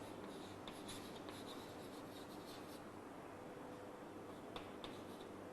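Marker or chalk writing on a board during a cell division lesson gives soft, continuous scratchy strokes with occasional short taps, faint and steady, with no talking.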